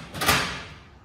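A large drawer on a Snap-on EPIQ toolbox slides along its runners in one smooth, close rolling swoosh that peaks early and fades out.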